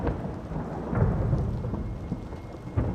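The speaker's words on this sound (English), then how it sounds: "Then, through the rain and thunder, Cam heard the night marchers' drums" Heavy rain pours steadily with low rumbling thunder swelling and fading underneath, a dense close wash of rainfall in a nighttime storm, with no voices.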